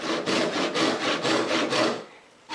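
A hand saw rasps back and forth through wood to cut dovetails, making about five steady, close strokes. The sawing stops abruptly near the end.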